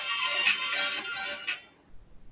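A phone rings indoors with a bright, tonal electronic ringtone that carries a repeating melodic pattern for about a second and a half and then cuts off, leaving faint room noise.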